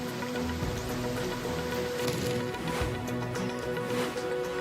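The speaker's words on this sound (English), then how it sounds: "The city of Boulder in the US state of Colorado witnessed a severe hailstorm." Hail falling on the streets of Boulder, Colorado, during a severe hailstorm, a dense, steady pattering of hailstones striking the pavement with no pause.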